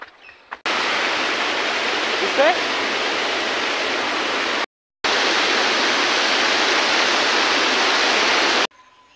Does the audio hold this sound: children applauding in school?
no